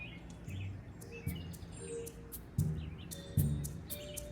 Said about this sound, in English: We have hundreds of birds around us. We feel like we're in an aviary.